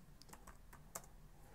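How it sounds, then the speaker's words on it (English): Keys tap on a computer keyboard while entering Hiragana in Microsoft Word, a quick irregular series of light clicks with one sharper keystroke, quiet and close with no talking. "now we can start typing"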